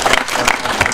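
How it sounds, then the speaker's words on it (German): Brief, loud burst of audience clapping at a Fernweh Park event, a dense crackle of many hands lasting under a second. "das ist doch wirklich mal ein Riesenapplaus hier"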